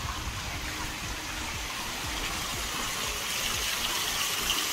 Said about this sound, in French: Avec la petite cascade.